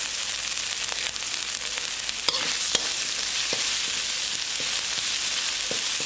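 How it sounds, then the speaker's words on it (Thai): Pounded chili and garlic fry in hot oil in a wok, a continuous close sizzle with a few sharp scrapes and clicks of a utensil stirring through the mixture. "พอน้ำมันร้อนครับ แล้วก็ ใส่พริกลงไปครับพริกกระเทียมที่เราตำไว้ฮะ"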